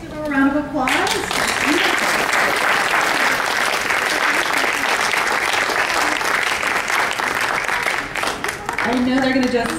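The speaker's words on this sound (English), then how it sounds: "let's give her a round of applause" A room of people claps in a round of applause for Dr. Hawa Abdi, steady and dense for several seconds, with a speaker's voice briefly heard just before and after.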